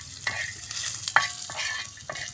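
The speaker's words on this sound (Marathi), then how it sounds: "धणे पण टाकले यामध्ये शेंगदाणे भाजूया" Coriander seeds and peanuts dry-roasting in a pan, with continuous frying hiss and several sharp scraping stirs of a spoon against the metal, close and fairly loud.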